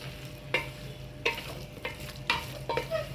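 Chicken curry being stirred and mixed in a pan, with four or five distinct scraping strokes of the spoon over a low background sizzle, close and fairly quiet.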